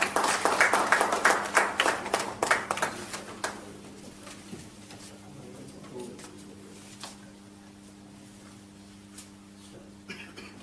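An audience claps at a stage ceremony where guests are garlanded. The applause is dense and lively for about three seconds, then thins into scattered claps over a quiet room hum.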